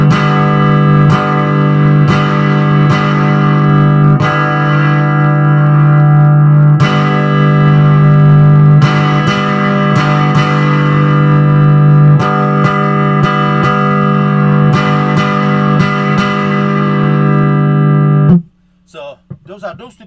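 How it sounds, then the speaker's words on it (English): Distorted chords on a Telecaster-style electric guitar with EMG and Seymour Duncan pickups ring out with heavy overdrive, repeated strums sustaining loudly for most of the clip before cutting off abruptly. "From the middle position to max, we are adding the overdrive"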